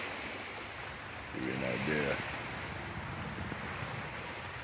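Wake waves from a Cadillac boat lapping on Indian Lake on a Sunday evening, a steady washing surge with wind noise on the microphone, while someone talks briefly over it.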